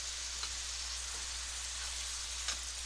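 Steak sizzling in a pan, a soft, steady hiss with a few faint pops, fairly quiet and without talk.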